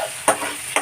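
Garlic and ginger stir-fried on high flame for dry chili chicken, a steady close sizzle punctuated by two sharp spatula scrapes against the pan.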